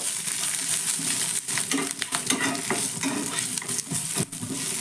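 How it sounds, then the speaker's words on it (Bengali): Mustard seeds, curry leaves and Kashmiri red chilli powder stirred in a hot pan, with a close, continuous frying sizzle broken by repeated scrapes and sharp clinks of the spoon against the pan. "এবার সব কিছু ভালো করে একটু মিশিয়ে নেব"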